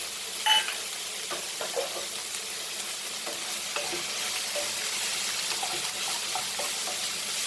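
Finely chopped mushroom stems fry in a pan as stuffing, giving a steady close sizzle with light scraping and tapping from stirring throughout.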